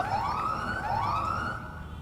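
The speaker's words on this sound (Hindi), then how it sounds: "साइरन" A rising-and-falling electronic siren effect played during a tennis-ball cricket league match broadcast, two sweeping wails loud and alone in the mix before trailing off.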